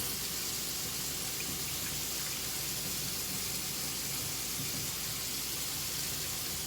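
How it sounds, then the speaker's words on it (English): Tap water runs continuously into a kitchen sink during rinsing, a steady, even splashing rush with no pauses and no speech. "Wash it, rinse it out under the water."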